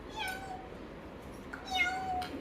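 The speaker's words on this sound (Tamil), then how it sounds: "இங்கே ஒரு பூனை வருது பாரு" A pet cat meows twice indoors in a household, the calls drawn-out and moderately close, heard over a steady low background hum with no talking.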